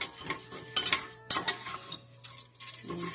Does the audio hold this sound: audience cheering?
no